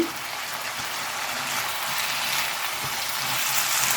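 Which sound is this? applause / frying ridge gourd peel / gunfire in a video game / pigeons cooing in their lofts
frying ridge gourd peel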